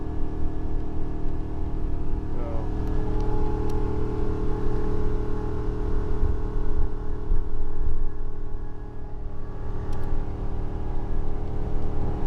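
A Ford V10 in a 30-foot Allegro motorhome without a Banks kit labors up Baker Grade near 4,800 RPM, a constant droning engine whine and road roar heard from the cab for the whole stretch.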